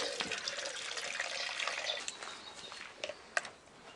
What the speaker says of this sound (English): I'm just going to add some more water